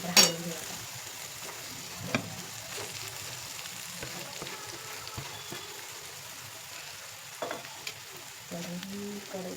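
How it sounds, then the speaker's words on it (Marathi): Mashed potato and spices stirred in a sizzling pan for aloo paratha filling, a steady soft frying crackle with occasional scraping knocks of the spoon against the pan, close and moderately quiet, no voices. "नंतर हलवून घेऊया."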